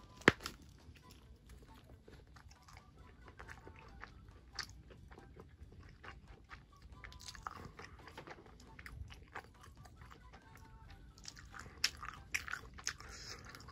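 Someone eats a Hot Pocket doused in hot sauce, with close, quiet biting and chewing that carries on steadily for the whole stretch and has a few sharper crunchy bites near the end.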